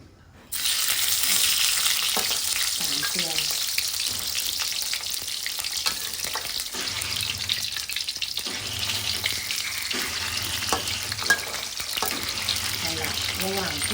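Salted fish frying in a pan of hot oil, a loud, steady, dense sizzle that runs throughout, with occasional soft clatter from stirring.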